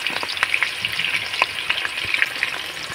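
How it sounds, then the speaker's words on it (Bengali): Large potato pieces frying in hot oil for biryani, a dense close crackling sizzle with constant fine popping bursts, steady and loud with no voices. "বেরেস্তা ভাজা তেলের মধ্যে আমি আলুগুলো ভেজে নেব।"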